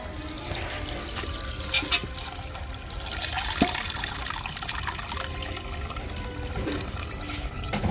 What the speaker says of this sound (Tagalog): buhos mo dyan yung gata